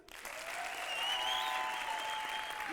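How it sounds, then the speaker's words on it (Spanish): Audience applause at a gala, a short burst of clapping rising quickly and holding steady, with a faint tone running underneath. "¿Y aplausos para DiCaprio?"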